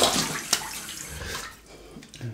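Cold tap water runs steadily at close range for a rinse during a wet shave with shaving soap, a continuous splashing rush with no talk over it.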